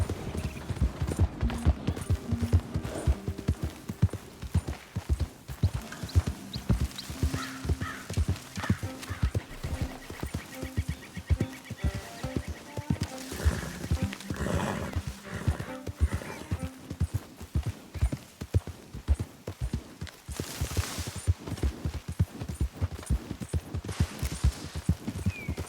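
Horse in Red Dead Redemption 2 galloping with steady, rapid hoofbeats throughout, broken by loud neighs and whinnies, set against in-game ambience and music with no talk.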